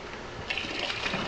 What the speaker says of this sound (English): I'm using hot water from the sink to get this stuff out.